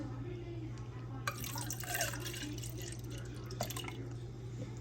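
Water poured from a pitcher into containers, a faint trickling and splashing stream over a steady low hum.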